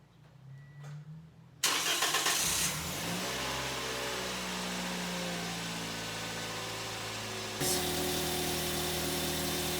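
A 2016 Toyota Yaris engine cranks and catches, then settles into a steady idle with a brief rev bump near the end, after an oil change.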